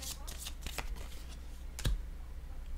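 Cards drawn one after another from a deck during a tarot-style reading, producing soft repeated papery flicks and slides with a sharper snap near the end, close and fairly quiet.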